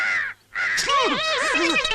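Crows caw repeatedly in loud, close, harsh calls with a brief pause early on, the cawing continuing in quick succession.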